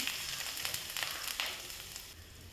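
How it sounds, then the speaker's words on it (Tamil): Mustard seeds and ginger fry in hot oil for a Kerala-style ginger-tamarind relish, a faint, soft sizzle broken by small scattered pops and crackles. "இப்போ கொஞ்சமாக கடுகு சேர்த்துக்கலாம் கடுகு பொரிய ஆரம்பிச்சிருச்சு"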